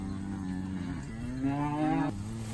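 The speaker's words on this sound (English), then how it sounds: "we just ran these cows through the chute and dewormed them off" Cattle just run through a chute and treated with pour-on dewormer moo with a drawn-out, rising low call that sounds close and clear against faint outdoor background noise.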